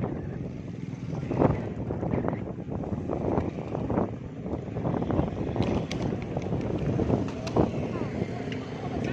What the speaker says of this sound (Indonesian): Angin besar.